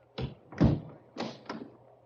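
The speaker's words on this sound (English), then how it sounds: "I shall lock the salon door." A salon door is shut and locked in an old radio drama, a few hollow thuds and taps close by, with one heavy knock among lighter clicks.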